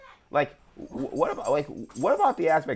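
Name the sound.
dog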